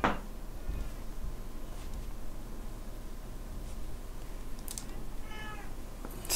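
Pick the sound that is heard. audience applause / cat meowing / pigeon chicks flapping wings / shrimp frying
cat meowing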